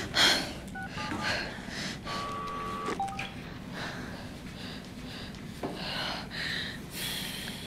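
Telephone keypad tones beep during an attempt to call for help after a big earthquake. A few short, faint electronic tones sound, among them one longer steady tone. They play under breathy sounds and low background noise, with a little talking.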